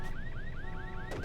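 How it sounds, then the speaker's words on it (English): A car alarm in the video game Halo 3: ODST whoops in a fast, repeating rising-tone cycle, steady and fairly clear over a dense background of game ambience, cut off by a burst of noise at the end. "the superintendent draws your attention to it with things like car alarms and announcements over the PA"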